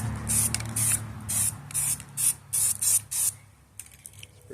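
Short hissing bursts of a spray paint can coat the brake drums of a 1999 Dodge 1500 truck, about eight quick sprays in a row, close and fairly loud, then fainter scattered hisses near the end.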